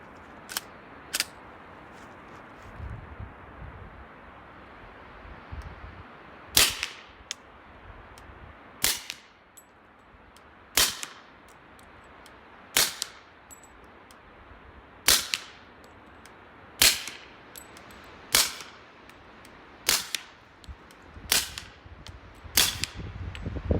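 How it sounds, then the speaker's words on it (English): Ten suppressed .45 shots from an FN FNP-45 Tactical pistol fitted with a Silencerco Octane 45 HD suppressor: sharp, evenly spaced cracks fired outdoors, after two earlier pops, each with a brief decaying tail. "So now we'll shoot the FNP-45 Tactical with the Silencerco Octane 45 HD suppressor mounted."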